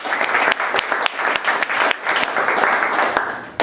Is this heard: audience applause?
yes